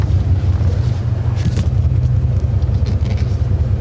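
A Dodge Ram 1500 pickup drives along with a loud, close, low engine rumble and steady road and wind noise, a few brief rattles and knocks rising over the drone.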